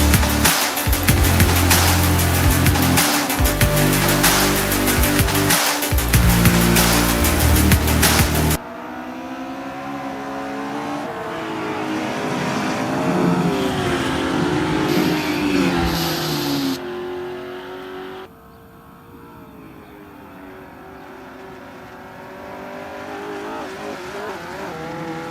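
Morris Mini race cars in a circuit race roar past, a loud continuous engine blare at first that drops to a quieter, fluctuating drone of cars further off with occasional revving.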